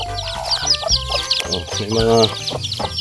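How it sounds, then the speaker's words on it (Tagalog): Several chickens cluck close by in quick, overlapping bursts, with a person talking over them. "May mga manok dito."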